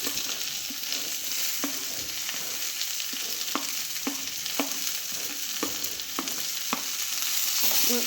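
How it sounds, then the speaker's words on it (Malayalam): Chopped onions and curry leaves frying in a pan for a Kerala-style egg curry, a steady close sizzle with scattered sharp clicks of a spoon stirring against the pan. "ഇനി നമുക്ക് അരിഞ്ഞ് വെച്ചിരിക്കുന്ന സവാള ഇട്ട് കൊടുക്കാം ഈ കരിവേപ്പിലയും കൂടി അതിലൂടെ ഇട്ട് കൊടുക്കാം"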